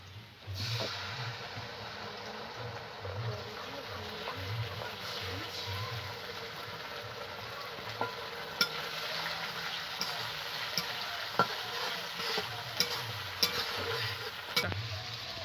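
A soy-sauce spice paste for chilli chicken sizzles steadily in a hot pan while a utensil stirs it, with occasional scraping clicks and a faint low hum underneath.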